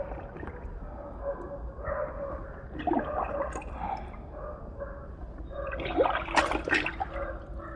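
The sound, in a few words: clothes being put into a bucket of water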